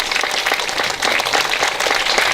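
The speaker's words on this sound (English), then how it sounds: "let's give him and his family a big round of applause" An audience at an essay-prize winners' gathering breaks into a full, close round of applause, many hands clapping densely and evenly throughout the short burst.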